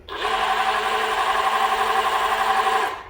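A hybrid dual-action rotary car polisher starting up at low speed, with a steady mechanical whir and hum that holds for about three seconds and then cuts off, close and without talk.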